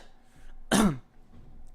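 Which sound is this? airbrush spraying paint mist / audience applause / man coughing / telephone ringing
man coughing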